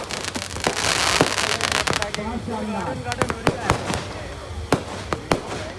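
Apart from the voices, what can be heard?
fireworks at a fair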